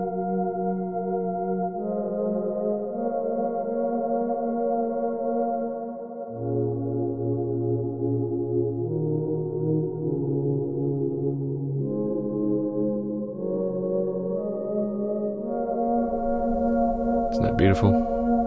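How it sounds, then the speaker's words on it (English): Sustained choral pad from a Trident MkIII synthesizer's Boys Choir patch, soft angelic chords shifting slowly through several changes over a low held bass, ending with a brief bright flourish, played without talking. "Boys Choir. This is a wonderful,"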